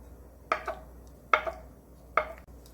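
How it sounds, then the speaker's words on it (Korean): A knife chops through tofu into cubes on a cutting board, three separate crisp knocks spaced evenly apart, each with a short second tap, close and alone in a quiet kitchen. "두부 3분의 2모 깍둑 썰기 해줄게요."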